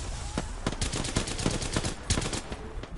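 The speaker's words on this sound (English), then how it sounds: "Oh god, I'm getting shot at." Gunfire in an Apex Legends match as rapid repeated shots and short automatic bursts, sharp cracks spaced irregularly over a busy background and fairly close, with no talking.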